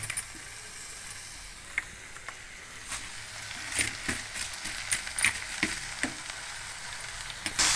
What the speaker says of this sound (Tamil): இப்போ நம்ம இந்த எண்ணெயில் இந்த கீரையை முதல்ல வதக்கிடலாம்